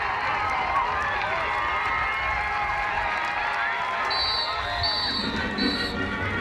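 A stadium crowd roars and cheers after Georgetown scores a goal in an NCAA lacrosse quarterfinal against Virginia, a steady loud wash of voices and whistles throughout, with a few high sharp whistles near the end.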